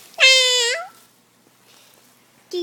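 A cat gives one clear, close, drawn-out meow, followed by a quiet pause and the start of a second short meow at the end.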